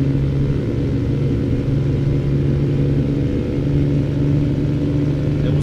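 A truck engine in the Euro Truck Simulator 2 game drones with a loud, steady low rumble and a constant hum throughout, with no talk over it.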